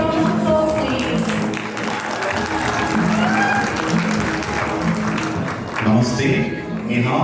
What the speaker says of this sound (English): Let us all give a big round of applause